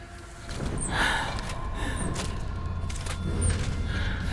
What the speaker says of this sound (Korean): 숨소리,